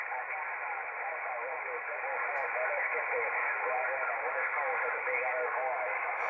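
A Tram D201A CB radio in an American barn picks up a distant single-sideband station, with a faint voice in band-limited static hiss under a constant noisy carrier.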